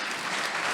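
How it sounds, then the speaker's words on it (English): Brief burst of audience applause, a dense wash of clapping at a political summit in Los Angeles, loud and close with no voices over it. "I need more claps than that, guys."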